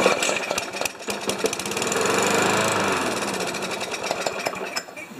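A Yard Machines lawn mower engine, covered in oil and with a suspected clogged carburetor, fires up and runs close by with a rapid, rough chugging that swells and wavers for several seconds.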